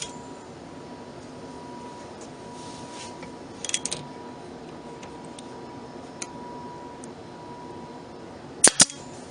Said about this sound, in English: Decorative trim pieces are attached to the front of the dresser using a nail gun and